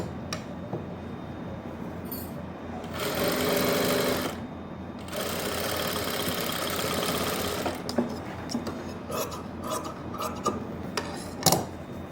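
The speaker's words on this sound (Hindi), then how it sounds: "पहले सिलाई लगा लेता हूँ, फिर कपड़े को मैं कट कर दूँगा।" A sewing machine stitching fabric for palazzo pants runs in two steady whirring bursts, about a second and then nearly three seconds, followed by scattered handling clicks and rustles.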